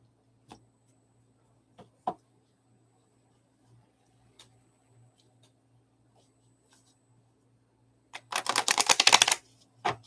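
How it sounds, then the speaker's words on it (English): A deck of tarot cards is shuffled during a live reading: scattered soft clicks give way to a dense, close burst of riffling card flutter lasting about a second near the end. "Let me shuffle a little bit."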